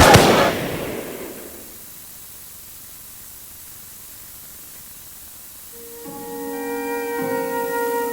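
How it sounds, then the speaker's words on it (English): Army volley fired on rioters in London, heard as a loud burst at the start that decays into a long hissing tail, then a quiet stretch before tonal ringing sounds rise near the end. "Here, the army and the volunteers of the London Military Association stood their ground and opened fire."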